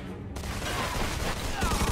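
A burst of gunfire from shooters positioned above in the Mafia II Definitive Edition game rattles densely and loudly throughout, with dense overlapping shots.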